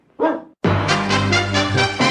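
A dog's single short bark, then the Ubu production logo sting from the Family Ties era, where a bright, sustained musical chord follows the bark at full loudness with no talk.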